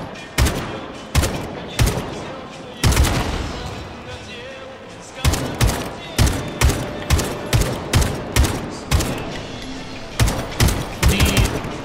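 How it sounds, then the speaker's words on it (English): Gunfire in Atomic Heart, a weapon loaded with shock cartridges shooting at canisters: sharp, loud single shots and quick bursts repeating throughout, with ringing echoes and metallic impacts between them. "I'm trying to shoot those canisters."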